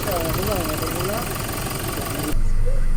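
Toyota Hilux G engine running roughly, with low power and black exhaust smoke: a close, steady idling rumble with a shaky, uneven tone that grows louder near the end.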